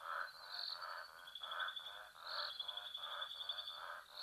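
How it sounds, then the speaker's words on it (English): Eastern olive toads and frogs call together in a dense outdoor chorus, with steady overlapping trills and croaks pulsing in a rhythmic cycle at moderate distance, with no voices. "there are frogs or toads singing a beautiful chorus"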